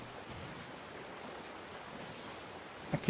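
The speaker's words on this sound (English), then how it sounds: "Just a nice, awesome trip. You and your ship among the waves." Steady wash of ocean waves and wind around a sloop in the pirate video game Sea of Thieves, a continuous soft surf roar with a couple of small knocks near the end.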